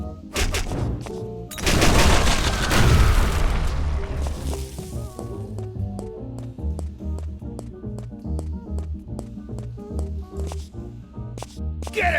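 Gunfire in the video game Guns, Gore and Cannoli: a dense burst of rapid shots builds to a loud volley, then thins into scattered cracks over a rhythmic game music bed, with no talk.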